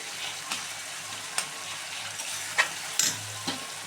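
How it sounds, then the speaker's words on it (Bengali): Tomato fries in a pan while being stirred, a low steady sizzle broken by several short scraping stir strokes at irregular intervals, close and fairly quiet with no voices. "একটু নাড়ানাড়ি করে বন্ধুরা টমেটোটা একটু গলিয়ে নিতে হবে"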